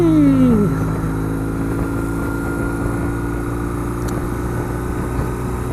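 A BMW motorcycle with 28,000 miles on it, ridden around Portland, Oregon, gives a steady close engine drone with rushing wind, holding even throughout after a brief falling tone at the start.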